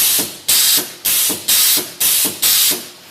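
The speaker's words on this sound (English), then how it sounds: "We've got it actually hooked up to an air compressor right now." Pneumatic lemon shaker press running on an air compressor: six regular, loud bursts of compressed-air hiss about every half second, each sharp onset fading off, close and alone.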